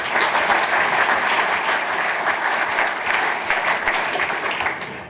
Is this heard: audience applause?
yes